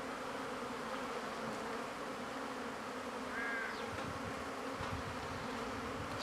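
Honey bees crowd the entrance of a small nucleus hive on a sunny early-spring day, a dense continuous buzzing swarm close to the microphone with individual wingbeats passing by, no voices.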